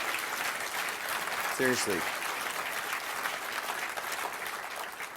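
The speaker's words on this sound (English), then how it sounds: "Can we get a round of applause for this group of people" Steady applause from a keynote audience at a photography expo fills the whole stretch, with a voice briefly speaking over it.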